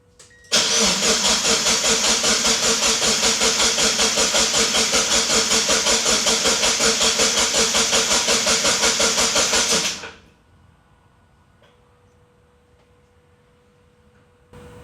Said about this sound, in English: let me give you guys a little bit of sound from the car.